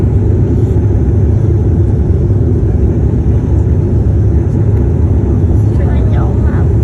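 A small airplane drones through its flight with a steady, loud low-pitched engine rumble heard from inside the cabin, continuous with no break.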